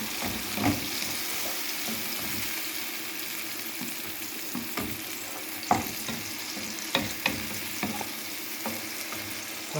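Onions and small diced tomatoes fry in a pan for Egyptian shakshuka under a constant soft sizzle. A utensil scrapes and taps the pan now and then as the mix is stirred, close by and without speech.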